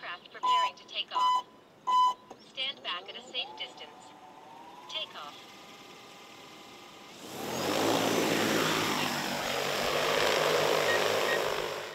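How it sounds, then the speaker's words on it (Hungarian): A DJI T30 agricultural spraying drone flies with a steady, broad rotor roar that swells and holds for several seconds, following a stretch of speech over a rising electronic tone. "Alapvetően ez a DJI T30-as permetező drón"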